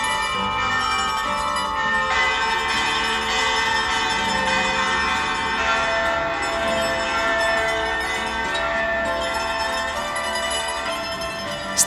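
Church bells of the patron saint of Zakynthos ring out close by in a dense, continuous metallic peal, loud and steady, with rich overlapping overtones and no speech.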